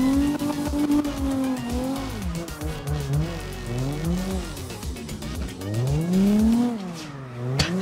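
Car drifting in the CarX video game, its engine revving with sweeping rises and falls in pitch while the tires squeal, loud and continuous for about eight seconds with no talking.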